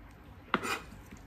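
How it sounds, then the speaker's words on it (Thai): A knife chops through Thai pork roll (moo yor) on a cutting board, giving a single faint crisp cut against a quiet kitchen background. "หมูยอนะคะหั่นเป็นชิ้นพอประมาณนะคะก็ตัดครึ่งเนาะ"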